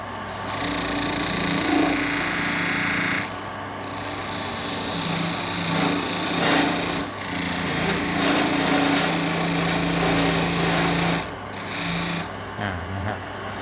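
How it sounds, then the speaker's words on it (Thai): A Luxter wood lathe turns a piece of wood during a concave cut, giving a steady, fairly loud motor whine mixed with rough scraping of the tool on the workpiece, with a few short dips where the cut eases. "อันนี้คือกลึงปอกหรือว่ากลึงเว้านะครับเนี่ยฮะ"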